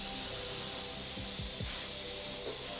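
Green spray paint hisses steadily from an aerosol can onto a pile of model railroad cedar trees, a continuous close spray with faint low thumps underneath and no talk.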